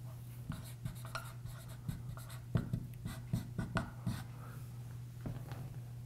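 Marker or chalk writing out an answer on a board, with quick scratchy strokes and taps in short bursts over a steady low electrical hum.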